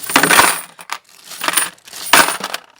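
Coins poured and clattering back into a container after counting a year's saved change, three loud jingling bursts separated by brief pauses, close and alone.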